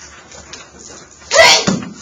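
A single sharp human sneeze bursts out close by in a quiet classroom during a math lesson on percentages, short and loud against faint room noise.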